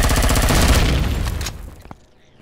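Gunfire in the space survival game Empyrion Galactic Survival on a hellish planet: a loud, dense burst of rapid automatic shots that fades out over the last second, with no talk.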